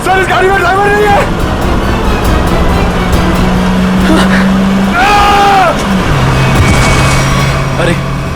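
Taxi crashing in during a tense street scene, with a car engine whine and brief tyre squeal amid loud shouting voices throughout, a sustained mechanical tone running under the commotion.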